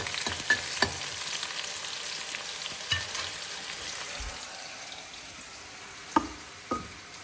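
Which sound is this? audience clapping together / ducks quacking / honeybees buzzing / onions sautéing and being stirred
onions sautéing and being stirred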